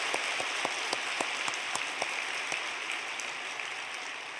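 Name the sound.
church congregation applause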